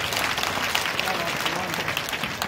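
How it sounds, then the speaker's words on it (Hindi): Steady applause from a crowd at a school student award ceremony, a dense continuous patter of many hands clapping at a constant level throughout. "एक बार जोरदार तालियां होनी चाहिए।"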